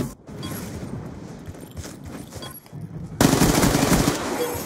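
Video game gunfire rattles in short automatic bursts, growing louder and denser toward the end, with little talk over it.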